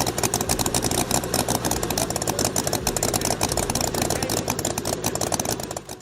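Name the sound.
1922 motorcycle engine running, engine in front wheel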